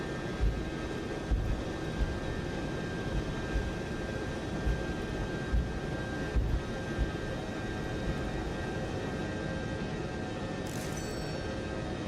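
A Boeing 707 jet roaring on its takeoff run in Microsoft Flight Simulator 2024, a loud steady broadband engine rumble with faint thumps and a high whine, with no talking.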